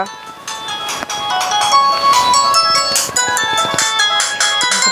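A phone rings loudly with a repeating melodic ringtone that plays steadily throughout, with no voices over it.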